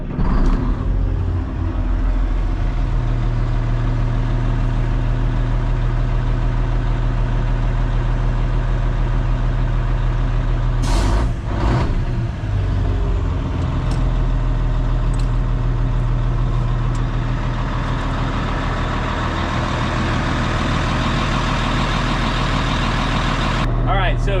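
A Caterpillar 16H grader's diesel engine fires up and settles into a loud, steady, rumbling idle close by, with a brief louder burst midway and no one talking over it.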